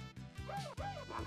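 A pug in the game Not A Hero gives a few quick, close, high yipping barks, short and springy with a slight whine.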